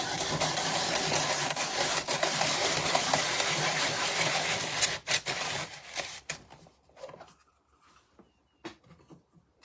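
A washed potato pushed through a Princess House 3-in-1 grater, a loud continuous rasping slice for several seconds that breaks into scattered scrapes and taps before fading out, with no talking.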